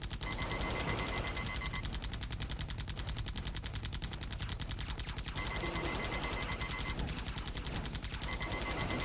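Rapid automatic gunfire crackles almost without a break in the video game AirMech Arena, dense and steady throughout at moderate loudness, with faint electronic tones mixed in.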